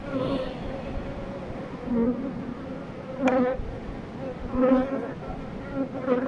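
Honey bees buzz steadily around an open hive where queens are being picked out while colonies are readied for the linden honey flow. The close, dense drone swells louder every second or so.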